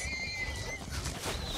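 Horses in the Minecraft Story Mode video game give a short, clear neighing whinny, with a faint clopping under it and no talk.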